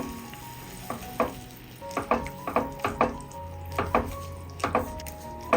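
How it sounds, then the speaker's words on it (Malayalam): A spoon stirs an evening snack mixture in a pan over a frying sizzle, with repeated scraping strokes and clinks in an irregular rhythm, close and fairly loud, with no talking. "ഒന്ന് ഇളക്കി കൊടുക്കാം"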